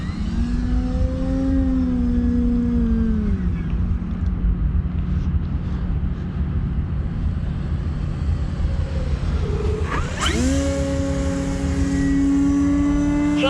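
E-flite Carbon Z Cub SS giant-scale RC floatplane flying aerobatic hammerhead stall turns, its electric motor whining in long rising and falling sweeps, throttling down then surging back to a loud, close high-pitched drone.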